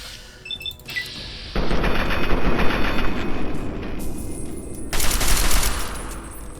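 Bursts of automatic assault rifle fire in Fallout 3, a sustained loud rattling volley that cuts off, then a second dense burst follows after a brief pause, with no talk over it.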